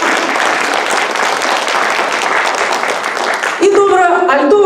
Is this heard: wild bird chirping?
no